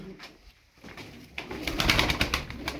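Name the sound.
tumbler pigeons cooing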